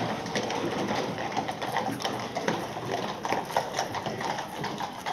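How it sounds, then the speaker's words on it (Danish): Kladruber horses' hooves clip-clop steadily in a riding arena, a dense run of hoofbeats with faint bird calls in the background; no one speaks. "Orion er en af Eskalonens 75 heste"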